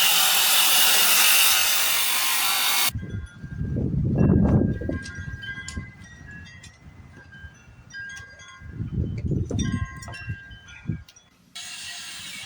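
Wood sawing while cutting a rim joist piece for a waterfront deck: a loud burst of noise opens, then a few bouts of rasping cuts come and go over quieter clatter, with no talk.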